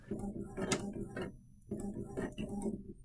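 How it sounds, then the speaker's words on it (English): An Epson ET-2400 inkjet printer runs while printing, its mechanism whirring and clicking in two repeated passes separated by a short pause, close and fairly quiet with no talk. "Now let's try printing again."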